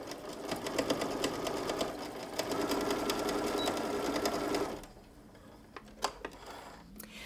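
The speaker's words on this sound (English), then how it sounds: "line it up with your seam allowance on your pattern and then just start sewing" A sewing machine stitches sequin fabric at close range, a rapid, steady mechanical whirring for several seconds that stops abruptly, leaving a few scattered ticks and clicks.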